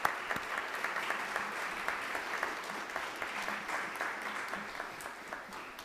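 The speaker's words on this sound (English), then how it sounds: "Yes, please give them a round of applause." Steady, even applause from an audience for the music ministers at a Kristallnacht remembrance gathering, a soft continuous patter of many hands heard from a distance and sustained alone for several seconds.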